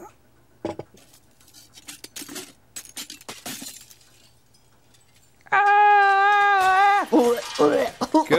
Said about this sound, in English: Stained glass is a bitch to make and you keep breaking it.